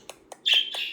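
A budgie in its cage gives a few quick soft chirps followed by a louder, sustained scratchy call, close and clear with no other sounds.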